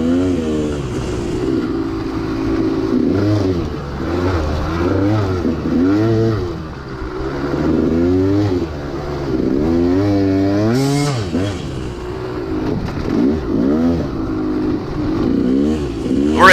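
Dirt bike engine revving continuously through a motocross race at Locust Gap, rising and falling pitch as the rider works the throttle, loud and close, with a struggling bike lacking speed and a clutch at risk of burning.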